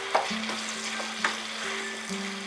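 Rajasthani mutton curry stir-fried with salt over medium heat: continuous close sizzling with soft stirring scrapes and a couple of sharper spoon knocks against the pan.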